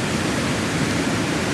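Waterfall in woodland near a small fishing pool at the bottom of a hike, a steady, dense roar of falling water that stays loud and unbroken throughout.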